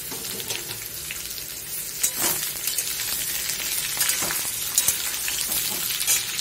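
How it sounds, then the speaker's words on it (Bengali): Onions go into a pan of fried potatoes and sizzle steadily in hot oil, with intermittent scraping and clinking stirs close by and no talking. "আলুটা ভাজা হয়ে গেছে, এবার পেঁয়াজ দিয়ে দিই।"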